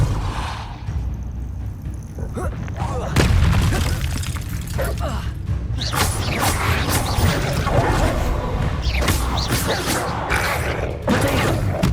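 Spell effects from the video game Hogwarts Legacy, including the Depulso push spell, burst as loud booms and whooshes over constant combat noise and game music, with a voice speaking over them.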